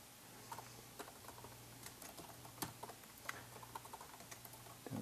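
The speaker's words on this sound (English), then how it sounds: "I'm just going to type in some employees here" Fingers tap on a computer keyboard while employee names are entered into a spreadsheet: quiet, irregular clicking keystrokes over a low steady hum, with no talking.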